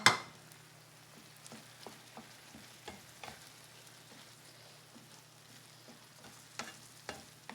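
Tomatoes and garlic sizzling in a pan, a soft continuous crackle with scattered clicks of a spoon stirring, fairly quiet and close, no talk.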